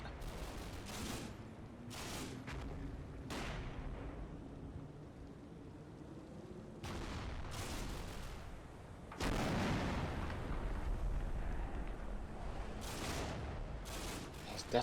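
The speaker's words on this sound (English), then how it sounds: "It's definitely mortaring the snot out of that." Mortar rounds in a video game thump out in separate bursts of booming impacts, some spaced apart and others clustered, heard under a low background rumble with people occasionally talking quietly.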